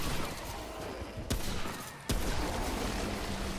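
Rifle fire in the video game Remnant, a steady wash of rapid shooting with two sharp louder reports standing out, dense and continuous throughout.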